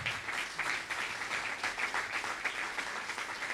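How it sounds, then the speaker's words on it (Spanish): A church congregation claps together in sustained, dense applause that stays fairly even and fills the room for the whole stretch, with no voices standing out. "¿Cuánto dan un aplauso a Dios por esto?"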